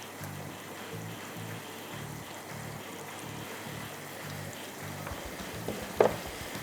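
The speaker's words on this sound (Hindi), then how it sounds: "बटर मेल्ट करने के बाद इसके अंदर मैं ऐड कर रही हूँ गार्लिक।" Chopped garlic fries gently in melted butter in a pan, a soft, steady sizzle at low level with a faint stir and a small clink near the end.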